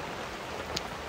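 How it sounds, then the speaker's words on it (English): Rain falls steadily on a camping tent on a Gazelle T4, a dense, even hiss of drops close overhead with no voices. "it's supposed to rain like this until about noon"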